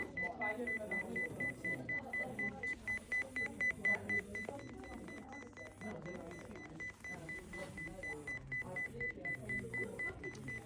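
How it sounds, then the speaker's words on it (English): Car parking assistant alarm beeping in rapid, repeated pulses as the vehicle sits very close to an obstacle behind it, steady and prominent with a person talking over it. "the light is flashing very quickly, and so as the beeping sound, the alarming sound."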